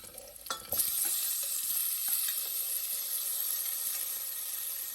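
Chopped tomatoes tossed into hot oil with slit green chillies, a steady close sizzle and hiss of frying with a few stirring clatters from the spoon against the pan, no talking.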